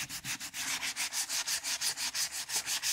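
Wood is hand-sanded with 220 grit sandpaper in a fast, even back-and-forth rhythm of about seventeen rasping strokes, close up and alone.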